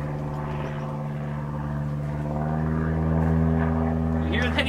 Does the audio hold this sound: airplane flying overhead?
yes